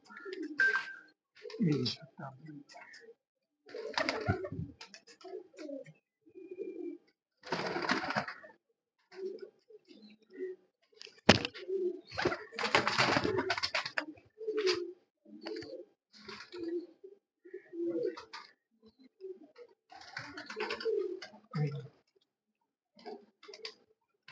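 Champion racing pigeons in Punjab coo repeatedly at close range, soft throaty phrases coming in irregular bursts with brief pauses and a few sharper clicks or wing rustles between them.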